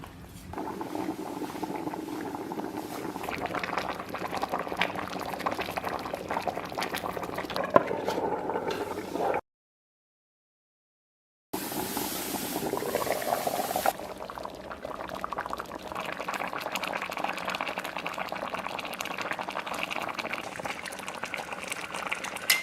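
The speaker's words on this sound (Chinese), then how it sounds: "盖上盖子，小火慢炖3个小时。" Beef hooves simmer in a small covered pot over low heat, giving a steady bubbling boil that stays close and constant, broken by a brief silent gap midway.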